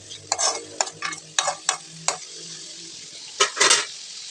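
Broad beans frying in oil in a pan, heard as a series of sharp scraping stirs against the pan over a soft sizzle, close and fairly loud with brief pauses between strokes.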